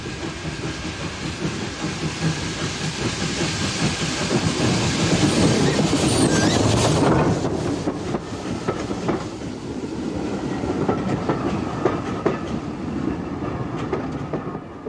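A steam tank locomotive rumbles into a station with rhythmic clanking and a hiss of steam, growing louder as it passes close, then easing off.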